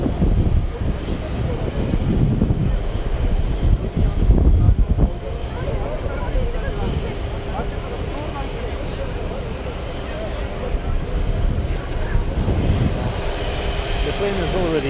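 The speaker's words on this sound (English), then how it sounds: "plane is already here" Jet airliner carrying the president of Turkey arriving at an airport in cold weather, a steady broad engine roar holding throughout with people talking nearby underneath it.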